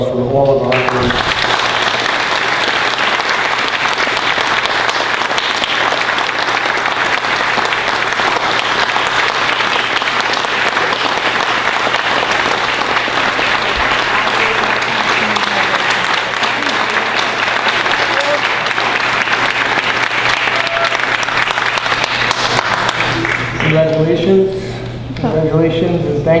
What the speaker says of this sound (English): Please join me in one more round of applause for all of our honorees.